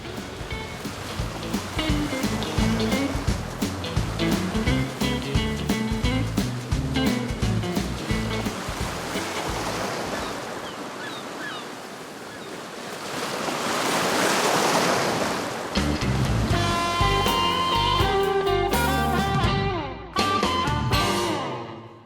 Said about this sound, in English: this water is pushed like a spring effect, goes backwards with this big bore wave